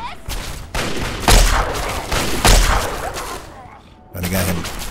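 Fallout 3 combat: loud, repeated gunshots crack and boom in clusters over about four seconds, with a brief lull before another burst.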